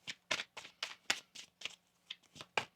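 Tarot cards shuffled by hand close up: a quick rhythmic run of about ten crisp riffling bursts, evenly spaced, with no talking.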